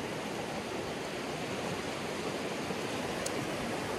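A mountain stream flows steadily in Mt. Assiniboine Provincial Park, heard as a close, dense, unbroken wash of rushing water with no voices over it.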